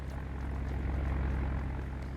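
A large bomber aircraft from the Roblox game Naval Warfare drones with a steady, loud, low engine hum and a pulsing propeller beat, with no speech over it.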